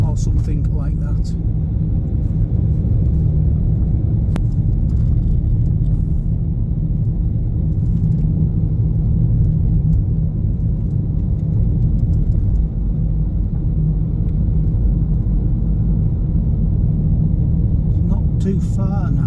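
A car drives along a Lake District road near Ambleside with roadworks and potholes, its low engine rumble and tyre noise steady and close throughout, with people talking inside.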